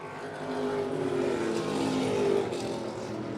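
Race cars lapping a track during the Boss Hogg 150, a steady loud engine roar that swells to a peak and then eases slightly, with no pause in the drone.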